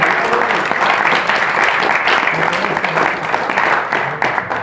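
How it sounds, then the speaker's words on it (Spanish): A church congregation applauds after a sermon line, a dense, loud, sustained wash of clapping that holds steady for several seconds and tapers slightly at the end. "Un aplauso al Señor en esta hora."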